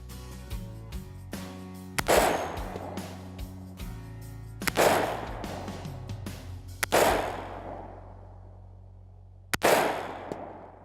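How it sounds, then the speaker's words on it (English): Smith & Wesson M&P 15 Magpul Spec Series AR rifle firing at a range: five loud, sharp gunshots spaced a few seconds apart, each with a ringing decay, with low background rumble between shots. "Some great shooting, Julie."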